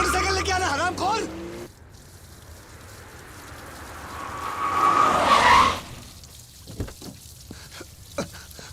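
A car pulls away after excited shouting, its tires skidding and screeching in a long rising smear that peaks loudly, then fades into scattered knocks and quieter noise.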